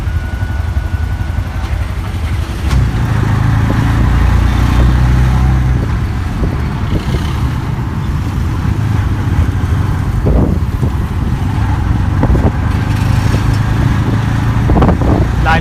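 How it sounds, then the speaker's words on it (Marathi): A queue of road traffic on the way to a D-Mart store, with a continuous loud rumble of car and motorcycle engines idling and creeping along, buffeted by wind noise on the microphone. "बघा लाईन गाड्यांची"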